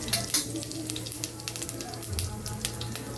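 Mustard seeds and cumin sizzle and crackle in hot oil in a kadhai, a steady near frying hiss with scattered pops and a low hum beneath.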